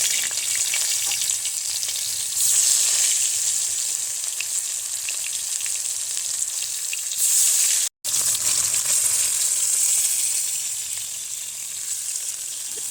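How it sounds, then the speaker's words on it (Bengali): Steady, loud sizzling of bhola fish frying in hot oil in a wok, continuous crackle throughout with a brief dropout near the middle, no talking. "এদিকে কড়াইতে আমি তেল দিয়ে দিয়েছি মাছটা ভেজে নেব ভালো করে"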